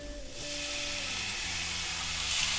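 Peas sizzle with softened, translucent onions in a hot pan, a steady hiss that grows louder toward the end.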